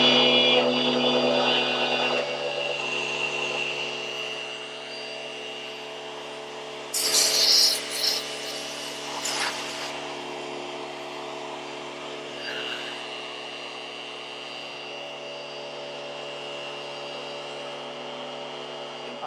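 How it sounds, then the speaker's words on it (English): A router cuts a mortise in wood for a chair's rear leg, guided by a clamped template, giving a steady, loud, sustained whine throughout with brief bursts of harsher cutting noise partway through. "So let's route ourselves some mortise."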